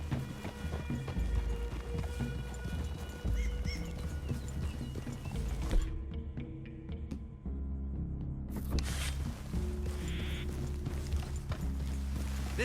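Horse hooves clip-clop steadily over a busy Red Dead Redemption 2 soundscape with a rumbling score, a neigh heard, and a brief drop in the backing track midway.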